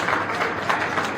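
A standing audience applauds after a spiritual discourse by Sant Shri Vallabh Krishnaji, a dense, steady wash of many hands clapping together, sustained and even throughout with no voices over it.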